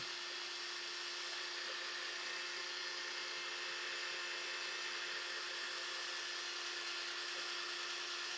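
A steady, high-pitched whir of a small 20-volt cordless drill polishing, spinning continuously at constant speed, close and loud, with no pauses.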